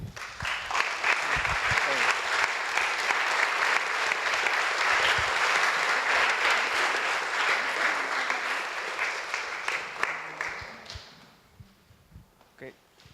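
Audience gives a big round of applause to the workers, a loud, sustained burst of many hands clapping that fades out near the end, leaving scattered shuffles and a few light sounds.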